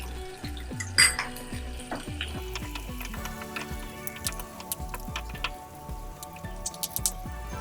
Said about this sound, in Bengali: এরপর আমি দিয়ে দেব আমার কেটে রাখা পেঁয়াজগুলো।